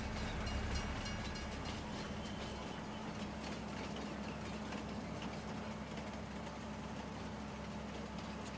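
Train in Farming Simulator 19 on the Riesenbeck map, rolling along as a faint, steady low rumble with an engine drone and light rhythmic rail clatter, no voices.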